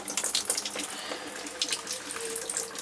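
Water runs from an RV shower faucet into the tub, a soft, steady splashing and trickling stream nearby, fairly quiet and unbroken.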